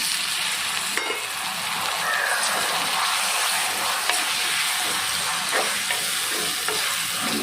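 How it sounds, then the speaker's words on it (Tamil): Onions and small cut tomatoes sautéing together in a pan, a dense, steady sizzle that stays loud and close, with occasional soft clicks of stirring. "தக்காளி நல்லா வதங்கணும். வெங்காயம் தக்காளி ரெண்டும் மிக்ஸ் பண்ணி வரணும்."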